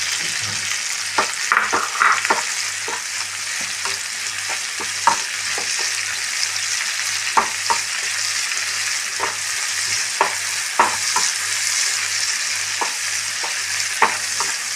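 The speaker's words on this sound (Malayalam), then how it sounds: "ഉണക്ക ചെമ്മീൻ നന്നായിട്ട് ഫ്രൈ ആവണം." Dried prawns fry in coconut oil with a dense, bright hiss that carries on throughout, broken by frequent sharp taps and scrapes of a spoon stirring them in the pan.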